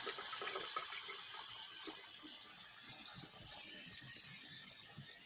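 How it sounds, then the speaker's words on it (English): A tap runs steadily in a darkroom sink during black-and-white film developing, water streaming continuously with a few faint clicks and knocks underneath, close and moderately loud. "I'm trying to actually turn the water back on it because I'm going to need that."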